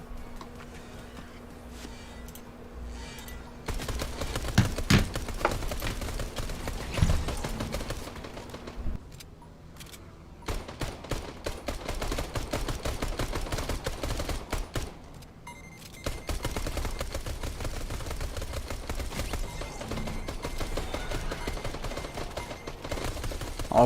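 Pistols fire in a competitive video game match, with rapid bursts of sharp gunshots cracking repeatedly, some in fast volleys, steady and prominent with no talk.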